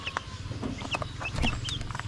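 Newly hatched Jersey Giant and Bengala chicks cheep close by, a run of high, short peeps over a low steady background hum.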